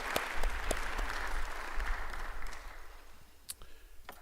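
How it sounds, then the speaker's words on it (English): An audience at a college Founder's and Honors Day convocation applauds in a dense burst of clapping that gradually thins and fades toward the end. "Can we have another round of applause"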